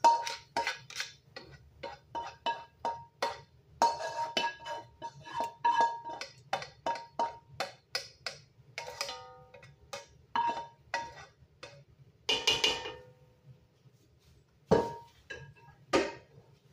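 Metal cookware clanks and taps as a large soup pot goes onto a stove and hamburger and onions are added for chili. The clinks, knocks and scrapes come close and irregular, with quiet gaps between them.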